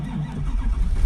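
A Ford F550 with a 6.0 PowerStroke diesel cranks over sluggishly on a weak battery inside a barn, a low, uneven churning of the starter and engine for about a second, loud and close.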